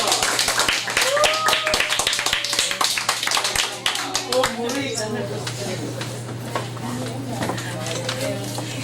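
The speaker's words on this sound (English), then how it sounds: "Let's give him a round of applause." A training-program audience claps for a volunteer, with dense hand clapping at the start that thins into scattered claps as people talk and laugh over it.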